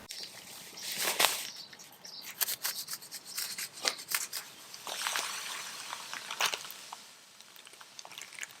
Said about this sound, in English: Got my bag of beads, and we'll go ahead, cut it open,